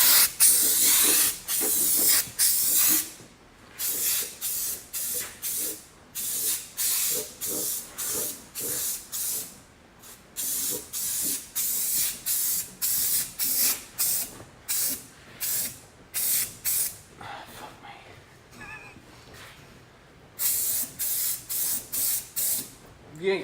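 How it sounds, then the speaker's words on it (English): Spray can laying black rubbery coating onto a rear axle, loud hissing bursts repeated in a steady rhythm with short pauses between sprays, close to the listener. "It sprays good though, don't it?"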